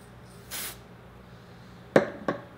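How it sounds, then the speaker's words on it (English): A short hiss of aerosol cosmetic spray onto a hand, followed after a pause by two sharp taps or clicks, close by in a quiet room. "I'm gonna spray it on my hand first."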